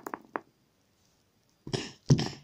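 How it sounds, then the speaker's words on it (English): A dinosaur character in a video game coughing: a few short bursts early on, then after a quiet gap two louder, rougher hacking coughs close up. "He's going to cough all of it out."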